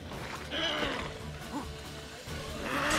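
A horse whinnies amid a dense mix of sounds from the game The Witcher 3 and a low rumble, with a bright rising neigh near the middle and more noise at the end.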